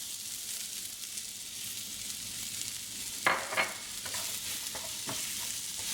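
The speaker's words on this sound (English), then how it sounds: "Now we stir it." Chicken and pineapple being stirred in a frying pan, with a steady sizzle running throughout and a few louder scrapes and clacks of the utensil against the pan partway through.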